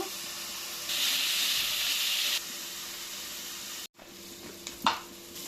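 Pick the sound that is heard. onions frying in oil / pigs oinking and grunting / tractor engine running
onions frying in oil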